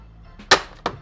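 A Fasten Pro 2-in-1 electric stapler and brad nailer firing two quick, sharp snaps about a third of a second apart, close and loud against a quiet background.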